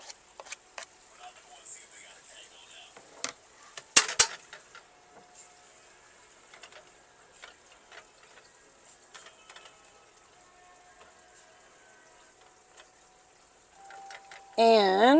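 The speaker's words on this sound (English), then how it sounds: "to our garlic that is sauteing right here, we're going to add our small diced onion" Garlic sizzles faintly in a pan with small diced onion for a classic beef stroganoff, a soft steady hiss with a few clicks and knocks of cooking utensils.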